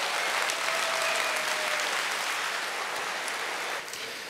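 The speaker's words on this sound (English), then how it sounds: "I think our registration team deserves a round of applause." Steady applause from a large crowd at a fan convention fills the room, dense and continuous, tapering slightly at the end.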